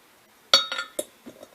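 A glass 2-cup measuring cup clinks several times while whole wheat flour is measured for bread, bright glassy taps with a ringing tone, followed by softer knocks, close and alone.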